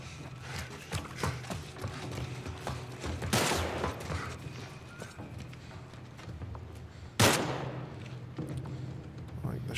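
Gunfire in The Last of Us Part 1 video game sounds as a few sharp, separated shots, moderately distant, over a busy background of footsteps and muffled noises, with brief speech-like sounds.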